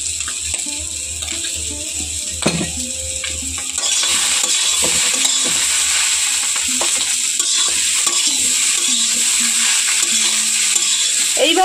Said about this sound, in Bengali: এইভাবে একটু নাড়াচাড়া করে ভেজে নেব খুব ভালো করে।